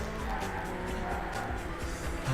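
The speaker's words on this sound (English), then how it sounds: "That would sound like Travis Pastrana, laughing like a madman as his car wrecks." A car crashes in the Burnout racing video game, with a continuous loud roar of engine and squealing, skidding tires that fills the whole stretch without pause.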